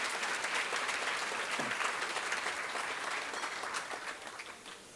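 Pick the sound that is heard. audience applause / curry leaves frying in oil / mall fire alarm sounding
audience applause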